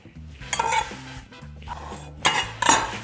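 Cooked chickpeas and quinoa stirred together in a bowl with a utensil, clinking and scraping in a few loud bursts over a steady low background hum.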